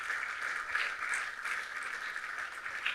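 A crowd at a panel event on ending the war applauds in a steady, moderately distant wash of clapping that holds evenly throughout.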